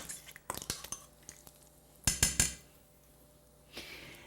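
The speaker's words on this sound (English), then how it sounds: "go ahead and stir your stew and let this cook for about 20 minutes on medium to medium high heat" A spoon stirs a pot of gumbo stew, giving scattered metallic clinks and scrapes, with a brief cluster of sharper knocks partway through, all fairly quiet and close with no talking.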